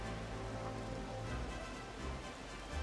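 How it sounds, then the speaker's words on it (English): Heavy rain falls in the NCAA Football 09 video game, heard as a steady, faint wash of hiss with no commentary or talking over it. "We got some heavy rain."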